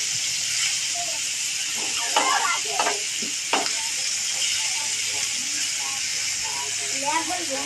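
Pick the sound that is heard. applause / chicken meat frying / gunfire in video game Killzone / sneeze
chicken meat frying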